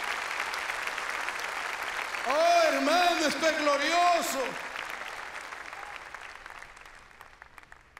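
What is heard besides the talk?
congregation applauding in church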